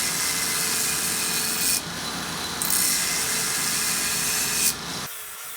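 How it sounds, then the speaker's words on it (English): Power grinder working a single bevel into a hand-forged axe head, a loud continuous abrasive rasp that runs steadily with small shifts in pitch and pressure before cutting off abruptly near the end. "Here he's grinding in the single bevel and cleaning up the rest of the axe."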